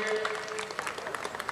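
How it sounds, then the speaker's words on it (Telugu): Scattered applause from an audience thanking leaders at a Telugu community gathering, fairly faint and brief, with a hint of voices mixed in. "చప్పట్లు కొట్టండి."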